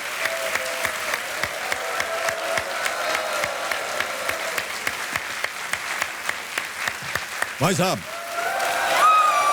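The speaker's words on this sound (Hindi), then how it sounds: "तालियां बजती रहे इनके लिए" Studio audience on the KBC quiz show, Season 10, breaks into sustained applause, a dense, even wash of clapping that stays loud throughout, with a voice speaking briefly near the end.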